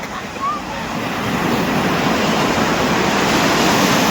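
Large sea waves break and roar continuously on a beach, a loud, close, building wash of surf with wind noise while people talk.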